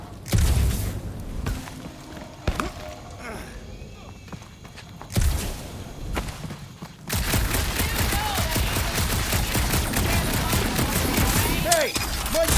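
Rapid video-game gunfire from Guardians of the Galaxy bursts out in dense, continuous volleys through the back half, following quieter footsteps and rumbling ambience, with voices talking earlier on.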